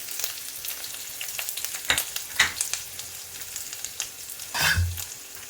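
Ridge gourd dal tempering stirred in a hot pan, a steady low sizzle with a few sharper scraping strokes and a louder burst of frying near the end, no talk.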